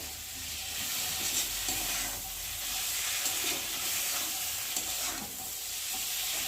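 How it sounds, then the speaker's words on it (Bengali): Okra frying in a pan with mustard spice paste while being stirred, a continuous close sizzle with soft scraping stir strokes throughout. "একটু সবজির সাথে ভালো করে মশলাটা একটু নাড়াচাড়া করে নেবো"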